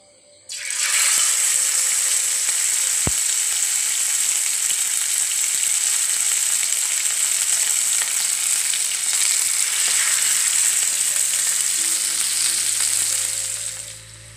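Marinated anjal fish pieces sizzle loudly in hot coconut oil in a pan, a dense steady frying hiss that starts suddenly and carries on unbroken, with a brief clink near the start.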